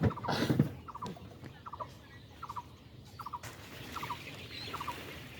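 Farm chickens clucking in short repeated bursts of two or three notes, moderately near, over a steady background of outdoor rustle and noise.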